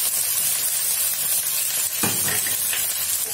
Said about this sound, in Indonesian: tumis dulu sampai dia kering agar baunya keluar